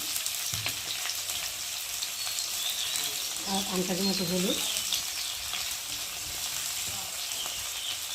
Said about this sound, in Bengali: দিয়ে এটাকে ভালো করে নাড়বো, একটু ভাজা ভাজা মতো করবো মশলাটাকে